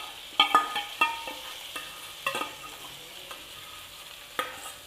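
Marinated chicken fries in a pan on full heat, with a soft sizzle underneath and a handful of sharp, close spoon clanks against the metal as it is stirred, spaced unevenly and fading between strokes.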